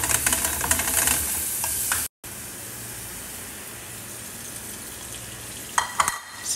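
Steady sizzling of onion and garlic frying in a pan, loud and continuous, broken by a brief gap of silence, with a few clinks near the end.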